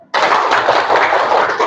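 A classroom of students doing a spirit clap, a sudden loud burst of many hands clapping together that starts sharply and stays dense and bright throughout the short stretch.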